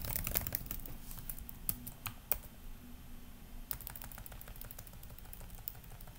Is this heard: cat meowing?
no